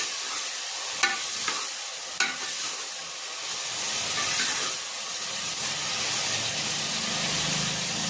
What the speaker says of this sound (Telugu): ఆనియన్స్ కొంచెం ఫ్రై అయ్యే వరకు వెయిట్ చేద్దాం.